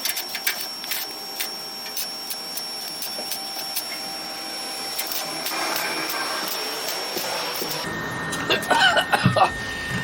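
A MIG welder tacks metal on a rotten 1956 Chop Top Oval VW Beetle, giving off rapid crackling and sputtering bursts with a steady hum underneath, close and moderately loud, with no talking.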